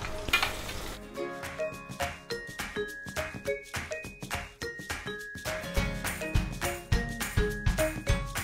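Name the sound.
frying vadam in oil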